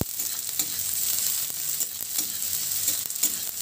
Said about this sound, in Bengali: পেঁয়াজ আর কাঁচা লঙ্কাটাও এবার ভালোভাবে একটু মিশিয়ে নেব।